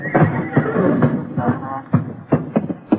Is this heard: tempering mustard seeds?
no